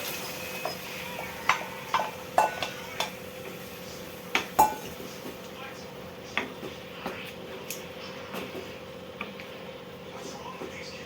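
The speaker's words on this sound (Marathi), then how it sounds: "तर आता आपण हे चणे ह्याच्यामध्ये टाकूया." Chickpeas go into a cooking pot in a home kitchen, giving scattered clinks and knocks against metal, a cluster of sharp taps early on and then lighter, sparser ones over a low steady hum.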